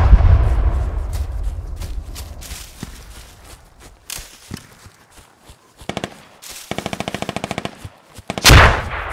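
Gunfire in the Squad video game: scattered single shots and loud bursts of rapid automatic fire, ending with a heavy close blast, with no talk over it.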